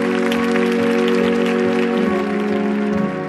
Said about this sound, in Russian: Дамы и господа, ваши аплодисменты